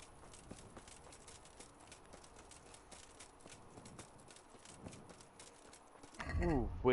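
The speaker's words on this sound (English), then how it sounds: "Horse." Horse hooves clip-clop at a steady walking rhythm in Kingdom Come: Deliverance, medium-near and soft, before a louder rumbling burst at the end.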